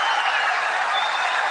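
A cricket stadium crowd at a Pakistan versus Australia match applauds and cheers a boundary, a dense, steady wash of clapping and roaring from many spectators with no gaps.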